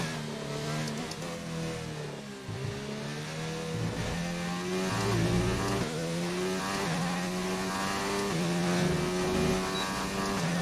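A Formula 1 car in the F1 2019 video game corners hard at the Spanish Grand Prix, its engine note dipping and rising in pitch as it revs through the bend, steady and fairly quiet with no talk over it.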